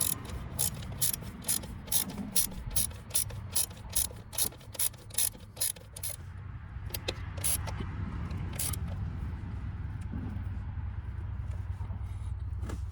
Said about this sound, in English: I'm gonna hold the back side with a 14 mil and I got my boxing wrench for the front side.